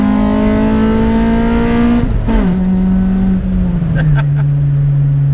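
A Honda VTEC engine holds a loud, steady high drone that dips sharply mid-way, then settles lower and drops again, close and dominant.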